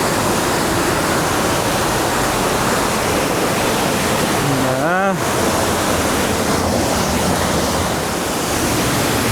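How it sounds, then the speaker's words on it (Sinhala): Sera Ella waterfall running strong, a loud, steady roar of rushing water that fills the whole scene, with a brief voice rising over it midway. "අද වතුර පාර හොඳටම සැරයි"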